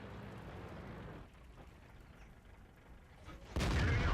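A heavy tank cannon shot from World of Tanks, fired during a T32 battle against a Jagdpanther, lands as a sudden loud boom near the end after a stretch of low engine rumble.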